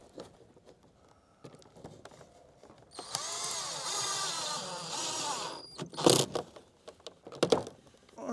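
A power drill drives screws into a security camera mounting bracket, a rising whine lasting about two seconds that settles as the screw seats, followed by a few clunks and knocks of the bracket being handled.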